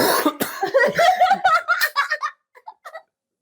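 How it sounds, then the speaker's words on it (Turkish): Short coughing fit from someone with a sore throat, a few rough bursts that trail off into fainter coughs near the mic, loosely mixed with giggle-like breaths at home. "Boğazım kötü öksürük"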